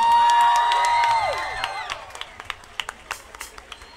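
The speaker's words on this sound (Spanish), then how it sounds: "un aplauso para el rey" An audience cheers and applauds a singer-songwriter at an evening concert in San Cristóbal, starting as a loud roar of crowd and whoops, then thinning into scattered individual claps and fading out.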